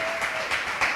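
A church congregation claps together in a brief burst of applause during a worship service, steady and dense with slight swells, with no voices over it.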